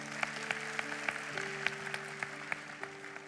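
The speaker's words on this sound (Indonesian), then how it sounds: "Tepuk tangan bagi Tuhan." A church congregation applauds God during a sermon service with a fairly faint, even, rhythmic clap that ticks along over sustained keyboard chords.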